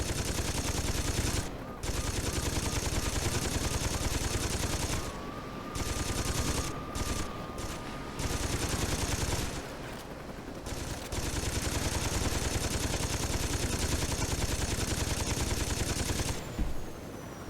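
Sustained automatic gunfire in Saints Row 2 as security guards are shot down, loud and nearly continuous with a few brief pauses between long bursts.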